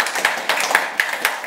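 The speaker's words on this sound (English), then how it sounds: "Can't be too much clapping if you ask for it." An audience at a Vision Celebration 2019 event on the Murphy Campus claps in a quick, even rhythm, several sharp beats each second, loud and close.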